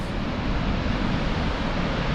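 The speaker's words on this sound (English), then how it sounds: "This is the Tia Falls" Tia Falls waterfall on the Tia River near the Oxley Highway, Tamworth region, gives a steady broadband roar of falling water, loud and continuous with no talking.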